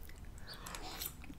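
A giant shrimp coated in Alfredo sauce is bitten and chewed, a short, close, wet crunch and squelch lasting about a second, with no one speaking.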